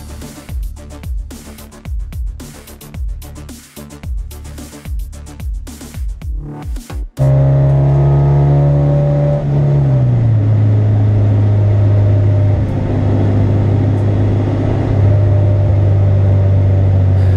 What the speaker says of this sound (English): This, of course, is Sam on his cool-down lap right after the race.